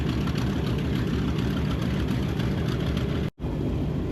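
A radial engine of a TBM aircraft idles while warming up, a steady, dense low rumble throughout, broken by one very brief drop-out near the end.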